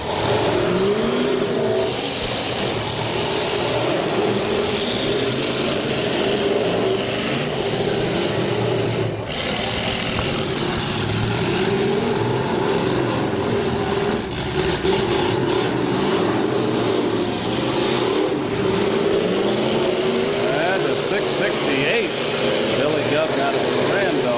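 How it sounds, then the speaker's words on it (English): Pickup trucks at the Portage County demolition derby, their engines roaring and revving continuously as they collide, loud and sustained with crowd noise and an announcer talking over the action. "We are down to 5 pickup trucks running at this time."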